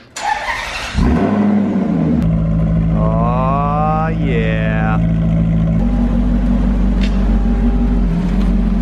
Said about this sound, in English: you're not gonna hear anything over the idle Maserati 20 feet away